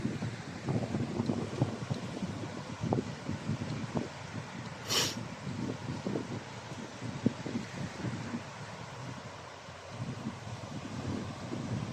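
Breezy wind at a tidal shore beside mudflats, gusting steadily and buffeting the microphone with continuous low rumbling thumps across the whole stretch.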